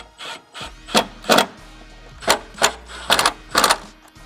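Repeated ratcheting and metallic wrench clicks while bolts are tightened on a Nissan 370Z fender brace, arriving in short bursts with brief pauses, close up and with no talking.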